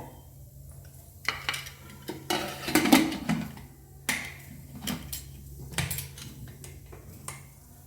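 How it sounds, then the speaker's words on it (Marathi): A metal pressure cooker clanks and scrapes against a gas stovetop, with a few clattering knocks and a brief rattle over a quiet hum. "मी गॅस चालू केला आहे आणि कुकर गॅसवर ठेवते"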